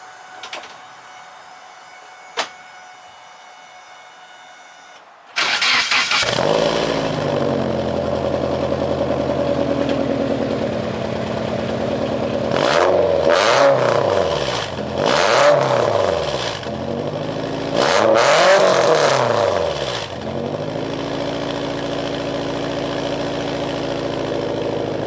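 A Nissan 240SX engine fitted with a cheap $50 muffler starts after a few seconds of near quiet, then idles loudly and is revved several times in rising and falling sweeps before settling back to idle.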